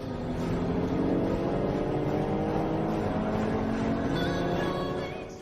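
Engines of a Jaguar F-Type V6 and two stage-1 BMW convertibles, one diesel and one gasoline, accelerating hard in a race, a loud sustained roar with rising pitch that fades slightly at the end.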